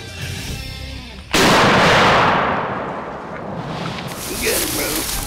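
A single loud shotgun blast during a turkey hunt, sharp and close, followed by a long rolling echo; quiet voices are heard before the shot.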